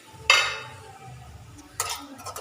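Tomatoes sautéed in a pan during home cooking: two sharp metal spatula clinks and scrapes against the pan, with a faint low sizzle between them.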